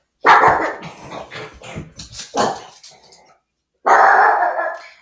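A dog barks loudly and close by in a few harsh bursts with some growling in between, and a final long bark after a brief silence.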